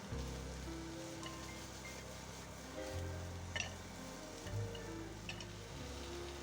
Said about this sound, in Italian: aggiungiamo tutte le verdure e i funghi kikurage. Saltiamo tutto insieme e facciamo prendere l'olio a tutti gli ingredienti